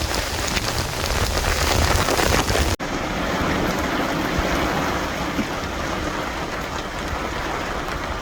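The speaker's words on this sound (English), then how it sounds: "A little bit of our own turd floater rainstorm coming down." Heavy rain pours steadily onto a sailing boat during a squall, a dense continuous hiss with a brief knock near the three-second mark and no voices.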